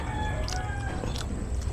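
A chicken crowing in a backyard coop, a faint bird call over a loud steady background hum, with brief clucks near the middle.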